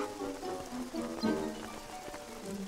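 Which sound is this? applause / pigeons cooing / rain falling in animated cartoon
rain falling in animated cartoon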